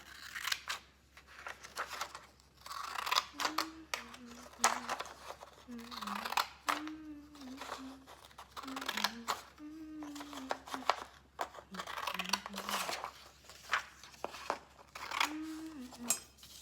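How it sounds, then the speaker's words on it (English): Wavy-edged craft scissors snip through paper in a series of short crisp cuts, close and fairly quiet, with a person speaking between and over the snips. "I'm gonna use my wavy scissors to cut it out."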